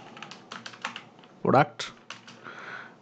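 Keys clatter on a computer keyboard in quick, light bursts, close and distinct, while someone speaks briefly over the typing.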